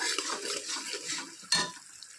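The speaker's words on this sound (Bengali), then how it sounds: "নুন দিয়ে এখন ভালো করে ভেজে নেব মশলাটা, যতক্ষণ না মশলা থেকে তেল ছেড়ে দিচ্ছে" Spice paste with salt frying in a pan, stirred throughout: a steady close hiss and sizzle with soft scraping, then a sharper scrape or clink partway through. No one speaks.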